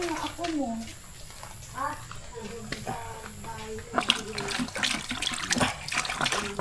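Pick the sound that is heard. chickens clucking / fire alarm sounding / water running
water running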